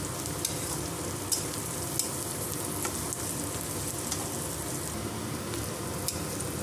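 Meal maker chunks fry with turmeric in a pan, giving a continuous bright sizzle with light, regularly spaced ticks and scrapes as the mixture is stirred.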